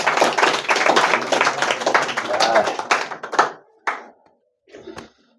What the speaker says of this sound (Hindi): पहले ताली तो बताओ इनके लिए